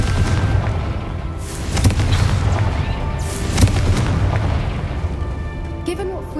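Booming blasts from the Confringo blasting curse in Hogwarts Legacy, a few deep explosive thumps around two and three-and-a-half seconds over a low rumbling background, with a voice briefly heard.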